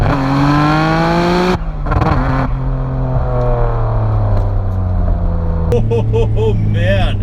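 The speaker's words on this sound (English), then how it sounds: "Just listen to that exhaust note." A loud, close 1999 Nissan Skyline GT-R R34 V-Spec exhaust drones and revs, its deep engine note rising and falling, with a few brief breaks and gear changes.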